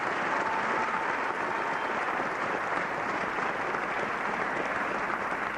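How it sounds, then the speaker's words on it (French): A TV studio audience applauds steadily in a dense, unbroken wash of clapping that holds at an even level throughout, with no voices rising above it. "on l'applaudit"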